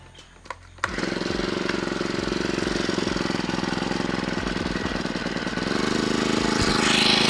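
A brush cutter engine pulls to life after a short quiet start, then runs steadily with a loud, rattling two-stroke buzz that holds an even idle and swells slightly near the end.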